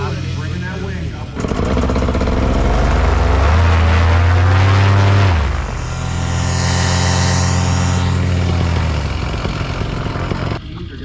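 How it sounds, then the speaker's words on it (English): Paramotor engine spooling up for takeoff at an ultralight field, a loud sustained droning buzz that swells, holds steady and then eases, alone and close. "Paramotor set up."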